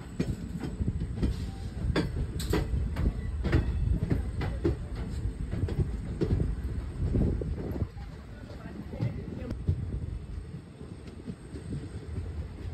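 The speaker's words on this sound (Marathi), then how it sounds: "आडव स्टेशनला 5 मिनिटाचा ब्रेक घेऊन ट्रेनने पुढे कंटिन्यू केलं." The Tutari Express passenger train rumbles steadily along with rhythmic clacking of wheels on track in the Konkan during heavy rain, a continuous loud roar that eases slightly toward the end.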